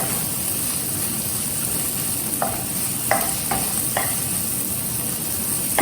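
Finely chopped capsicum sautéing on a hot tawa, a steady close sizzle with a few soft stirring scrapes and taps across it, no voices.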